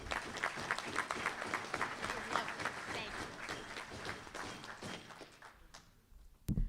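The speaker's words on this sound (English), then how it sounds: "we're clapping for ourselves because yay us" An audience at a Rotary Club of Tucson meeting claps for itself in a steady, dense burst of applause that thins out toward the end, followed by a short thump.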